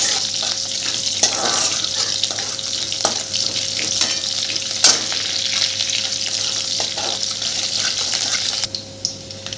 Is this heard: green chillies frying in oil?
yes